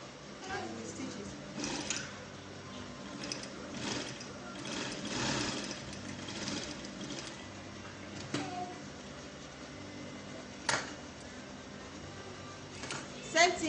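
A sewing machine stitches a pocket onto a dress, its steady mechanical whir running for a long stretch with a few sharper knocks, while a person talks over it.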